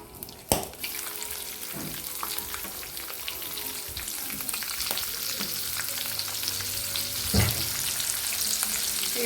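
Chopped onion, nigella seeds and green chilli fry in hot oil with a continuous, close crackling sizzle. Scattered knocks of a spoon stirring the pan stand out, with no voices.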